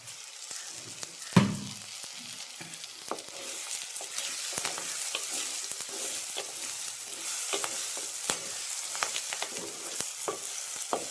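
Tomato frying in a pan with curry leaves for a mango fish curry is stirred, bringing one sharp clank early on and then a continuous sizzle with light scraping strokes, close and unvoiced.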